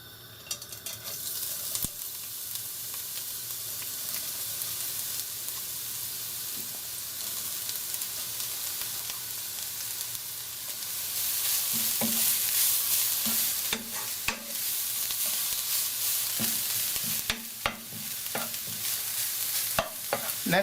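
Carrots frying in a pan with chili oil for gimmari filling, a steady soft sizzle with intermittent scraping and stirring clatters from a utensil, growing slightly louder midway, no speech.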